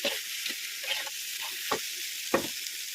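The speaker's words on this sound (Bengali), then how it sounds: "কচু শাক করলাম সুন্দর করে ভাজা হয়ে গেছে" Taro leaves (kochu shak) frying in a pan give a steady close sizzle with a few sharp scrapes of stirring, and no voices are heard.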